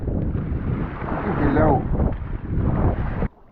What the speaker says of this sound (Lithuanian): Nemažą vėją turim.